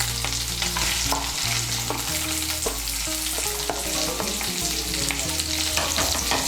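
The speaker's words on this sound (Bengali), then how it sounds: "পেঁয়াজ কুচিটাকে লাল করে ভেজে নেব।" Chopped onion frying in a pan gives a loud, steady sizzle all through, with a constant hum and repeated stirring clatters of a utensil against the pan.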